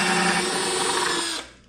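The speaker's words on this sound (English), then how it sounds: "Take your drill." A power drill whirs steadily at close range, a continuous high-pitched motor whine that cuts off sharply near the end.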